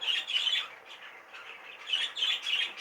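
An opaline cinnamon show bird squawks in harsh, raspy bursts, a cluster at the start and another toward the end, close and moderately loud with no talking.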